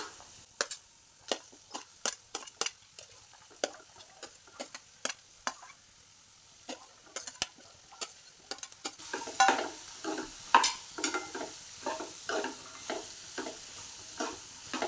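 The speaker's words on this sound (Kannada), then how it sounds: "ಇದರಲ್ಲಿ ಸ್ವಲ್ಪ ಒಂದು ನಿಮಿಷ ಫ್ರೈ ಮಾಡೋಣ" Vegetables and tomato for a mixed veg kurma frying in a pan, a steady sizzle broken by repeated scraping stirs at an uneven rhythm, the sizzle growing louder partway through; close and clear with no voices.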